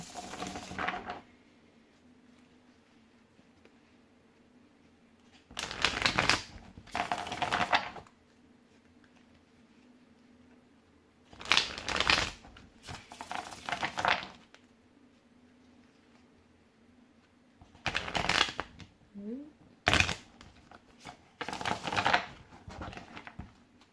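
Several short bursts of cards being riffled and shuffled, separated by quiet pauses, close and crisp, with no one speaking.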